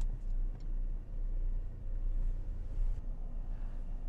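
A BMW 218i Grand Coupe pulls away, its low engine rumble and road noise steady and close throughout, swelling slightly toward the end with no talking.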